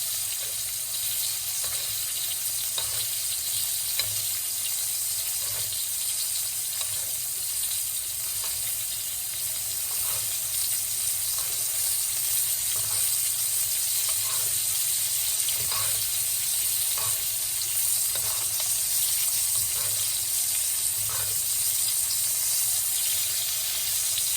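A steak sizzles and fries steadily in a hot pan while being basted, a dense continuous crackle with faint repeated clinks and scrapes from spooning, no voices.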